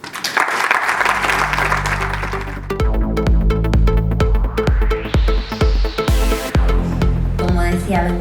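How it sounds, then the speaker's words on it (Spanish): Audience applause greets a speaker at a Spanish talk event, starting after a brief spoken introduction and continuing as steady, dense clapping from a full room for several seconds. "Un aplauso."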